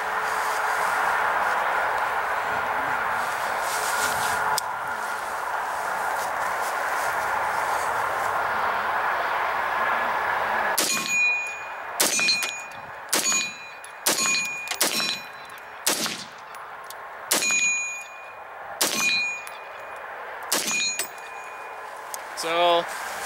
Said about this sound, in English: I got the gong swinging around all over the place down there.